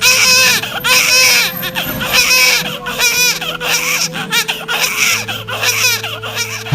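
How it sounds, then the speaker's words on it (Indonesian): A newborn baby cries in a hospital delivery room, loud, close wails repeating in rising and falling bursts with brief catches of breath, steady and insistent throughout. "terdengarlah suara tangis bayi dari dalam ruang bersalin"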